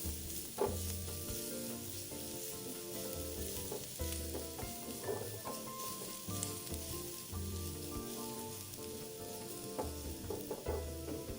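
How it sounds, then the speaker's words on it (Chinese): Minced shallots fry in a spoonful of cooking oil in a pan, giving a steady close sizzle with scattered pops and stirring scrapes throughout, with no voices heard. "20克小红葱末倒入爆香， 爆至葱末微焦后，再将蒜末也加入，一起爆香。"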